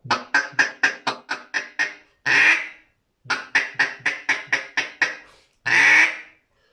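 A duck call whistle imitates duck quacks in two clear bursts, each a rapid run of about eight sharp, evenly spaced quacks ending in one longer drawn-out call, loud and close with no talking.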